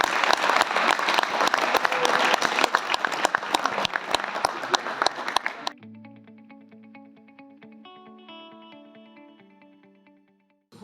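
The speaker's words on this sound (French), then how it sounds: "je peux vous demander de les applaudir" Loud, dense applause from an audience at a French youth football coaching evening, clapping for the players, cut off abruptly midway and followed by a sustained electronic musical tone that fades out.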